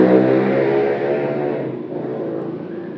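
A car speeds away as an audiobook sound effect, its engine rising briefly then trailing off into a fading whir over a few seconds.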